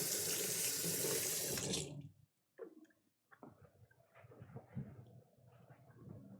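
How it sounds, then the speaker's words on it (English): Hands rinsed under a running kitchen tap: a loud, steady rush of water for about two seconds that then shuts off, followed by quiet kitchen rustling. "Give my hands a quick rinse here."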